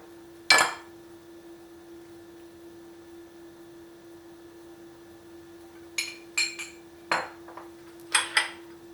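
Utensils clink against a bowl while eggplant, parsley and tahini are combined for a tahini eggplant dip (mutabbal): a single clink early on, then a quick cluster of light knocks near the end over a steady low hum.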